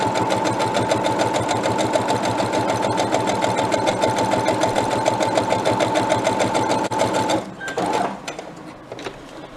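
A sewing machine stitching quilt pieces together runs in a fast, steady mechanical chatter at close range, loud and continuous, then stops abruptly near the end, followed by a few soft handling noises.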